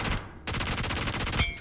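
Gunfire in the mobile battle royale game BGMI: a rapid automatic burst of shots, a short pause, then a longer steady stream of rounds ending abruptly, loud and close with no talk.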